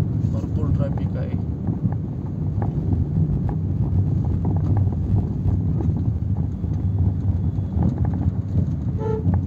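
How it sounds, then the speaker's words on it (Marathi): Busy road traffic rumbles steadily close by, with short horn toots scattered throughout and wind buffeting the microphone, while a person talks during the drive to fetch material for a Tata 407 tempo body. "भरपूर ट्रॅफिक आहे"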